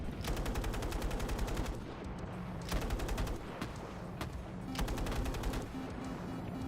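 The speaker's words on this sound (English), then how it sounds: "Heavy machine gun. Where are we being fired at?" Heavy machine gun fire in a video game, long rapid bursts of loud, dense shots repeating in several strings with brief pauses between them.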